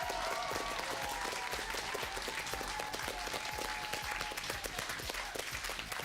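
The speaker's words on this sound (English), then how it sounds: "let's give a big hand to your coach" A crowd at a Carlmont versus Crystal Springs school sports event applauds a team coach, with steady, even clapping throughout that sounds somewhat distant, and a faint sustained whistling tone in the first part.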